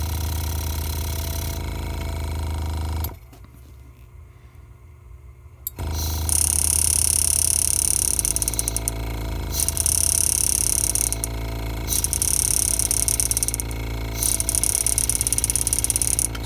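A pneumatic engraver handpiece, driven by a foot pedal, runs in a loud, fast buzzing rattle. It stops briefly, then restarts in several bursts with short gaps, and nobody speaks.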